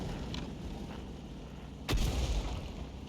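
Jagdpanzer E 100 tank destroyer in a video game firing its gun once, a single heavy boom near the end that rises out of a low, steady engine rumble.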